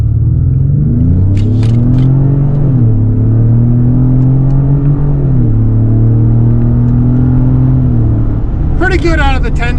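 Engine of a 2026 Ford Explorer Tremor 4x4 SUV revving up under acceleration in manual sport mode, pitch climbing and dropping with each paddle shift of the 10-speed automatic, a steady loud cabin rumble throughout.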